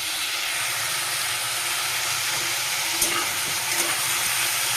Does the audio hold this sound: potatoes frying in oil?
yes